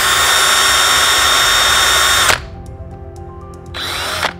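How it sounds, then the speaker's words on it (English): A power drill runs loudly into Supawood board for a couple of seconds, stops abruptly, then whirs up again briefly near the end; no voices. "then we can drill the next one."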